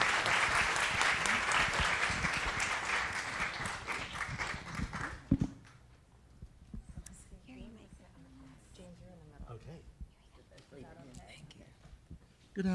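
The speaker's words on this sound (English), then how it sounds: "So please give a warm applause to all of our speakers" Audience at an art and film discussion event applauding speakers, a burst of clapping for about five seconds that cuts off abruptly, followed by quiet room sounds, scattered footsteps and soft talk.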